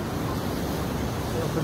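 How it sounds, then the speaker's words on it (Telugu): Sea waves washing onto the beach at Rushikonda, Vizag, a steady broadband wash of surf with some wind, continuous and fairly close throughout. "అలా సముద్రపు అలలు వింటూ ఆ సౌండ్తో అలా ఉండొచ్చు"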